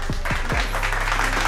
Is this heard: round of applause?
yes